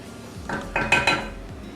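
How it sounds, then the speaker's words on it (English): Spoon scraping and clinking against a dish while stirring homemade rice pudding to separate the grains, a few distinct close knocks and scrapes in quick succession. "give it a stir. Just to separate all the grains of rice."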